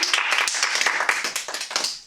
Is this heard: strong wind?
no